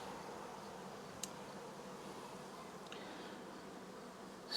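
A honeybee swarm drones in a steady, dense buzz throughout, with a faint click or two rising briefly above the constant hum.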